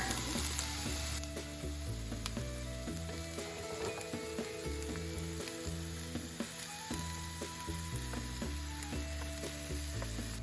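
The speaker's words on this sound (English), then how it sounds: "1 large diced shallot. We're going to put it into our oil for 6 to 8 minutes until it's firm." Diced shallot sizzling in oil in a pan, a steady close crackling fry running throughout under continuous background music with sustained tonal notes, no voices.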